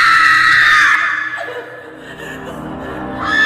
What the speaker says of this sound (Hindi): वो जोर जोर से चीखने लगी।